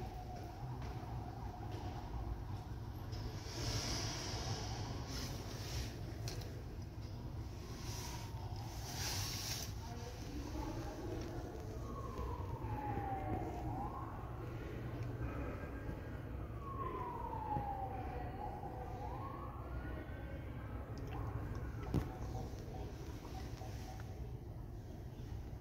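Fire engine sirens wail faintly in the distance as crews approach a fire at an old state hospital in Adana, their rising and falling tones sweeping over a low, steady background rumble.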